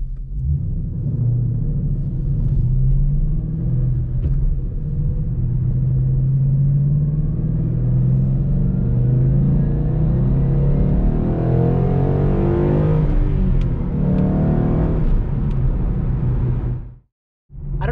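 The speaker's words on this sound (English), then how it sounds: "I've got the car in third gear going downhill, and the engine compression is holding it back. And it sounds great. Stock exhaust." A stock-exhaust 2012 Mustang GT 5.0 coasts downhill in third gear on engine braking, giving a steady, loud low rumble inside the car that swells slightly before cutting out abruptly near the end.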